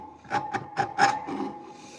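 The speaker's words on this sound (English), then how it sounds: "big old fat chisel. Slice right through that poplar." Big, wide chisel slicing through poplar in a woodworking shop, making a quick series of four or five close, dry scraping rasps over about a second, with a faint whine running underneath.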